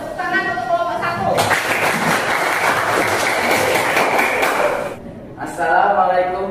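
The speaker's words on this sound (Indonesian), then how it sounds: "Tepuk tangan untuk kelompok 1." A seventh-grade classroom claps for a student group in a burst of dense applause lasting several seconds, with a voice speaking just before and after.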